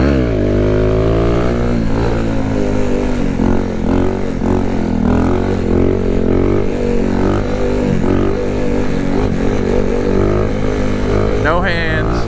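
Kawasaki Z125 motorcycle revving hard in second gear during a wheelie run, a loud continuous engine drone rising and falling in pitch close by, with bursts of talk over it.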